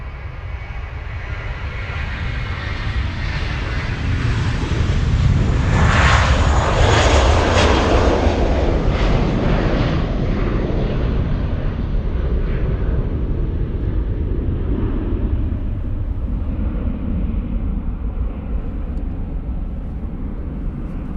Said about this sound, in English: Emirates A380, Bert, giving us an update. But from what I hear, it's gonna land north, right?